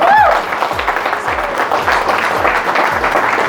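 An audience applauds loudly and continuously at an eighteenth birthday surprise celebration, dense clapping filling the whole stretch, with a brief tonal sound at the start.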